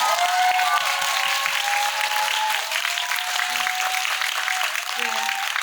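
Steady applause from a cinema audience at a film guest-visit Q&A event in Yongsan, Seoul, a dense continuous clatter of clapping throughout, with a faint tonal line of music or feedback running underneath.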